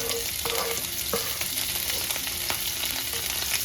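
Chopped ingredients for Jamaican mackerel and breadfruit sizzling in hot oil, a loud continuous crackle with stirring clacks and scrapes scattered through it.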